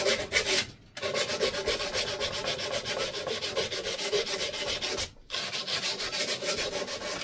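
A metal file rasps back and forth to remove a burr from an old two-stroke engine part, a steady rhythmic scraping of close strokes with two brief pauses and no talking.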